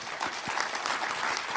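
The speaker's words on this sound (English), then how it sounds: "He gets a polite applause." Brief, polite applause from an audience at a Canadian political speech. The clapping is soft and distant, a mild patter that stays even throughout.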